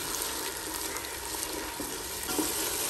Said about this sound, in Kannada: ಇದನ್ನ ಒಳ್ಳೆ ರೀತಿ ಈ ತರ ಫ್ರೈ ಮಾಡ್ಕೊಳ್ಳಿ